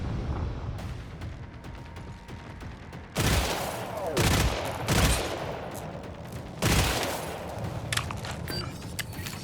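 Bursts of gunfire from the Bianca weapon in the shooter game Killing Floor 3, several heavy booming shots spaced a second or two apart over a busy background of game noise.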